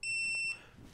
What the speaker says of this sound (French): avez vu l'alarme qui est assez embêtante